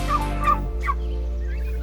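Domestic turkeys kept outdoors in a chicken and turkey tractor gobble in a few loud, close, rattling bursts over a steady low hum, with no talking.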